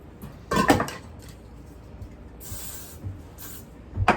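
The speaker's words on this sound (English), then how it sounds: "So I'm just gonna be spraying it." A spray bottle is squirted in several short, hissing bursts onto wig lace glue, spaced irregularly with quiet handling noises in between.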